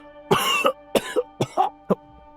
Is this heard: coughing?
yes